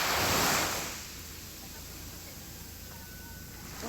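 Sea surf washes ashore on the Ilocos Norte coast, a steady broadband roar that swells loudest at the start, then settles into a continuous lower wash with some wind rumble.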